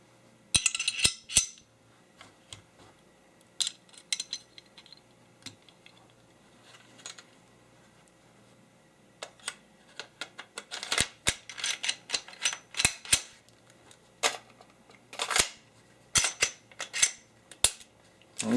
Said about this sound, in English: Go ahead and reassemble our gun.